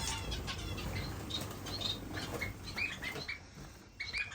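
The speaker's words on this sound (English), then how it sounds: "here are the birds." Finches in a home bird room chirp and twitter in short scattered calls over a soft hum, with rustles and wingbeats close by.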